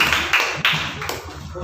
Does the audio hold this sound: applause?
yes